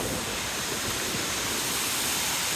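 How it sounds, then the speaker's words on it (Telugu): Katiki waterfall near Araku pours steadily, a dense, even rush of falling water that fills the whole clip with no pauses and no voices. "so we are at this కట్టిక water falls అనుకుంటా"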